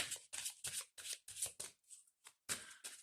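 Oracle cards from the Oracle des Miroirs deck being shuffled by hand in a series of brisk riffles, each burst separated by short pauses, close and clear with no talking.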